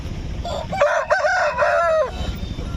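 A rooster crows once, loud and close, at a busy chicken market in Gudur, with a drawn-out call over low background noise.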